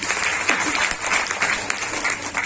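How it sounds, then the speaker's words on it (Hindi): An audience at a business training seminar breaks into loud, dense applause that continues evenly for a few seconds. "जोरदार तालियां बजाइए"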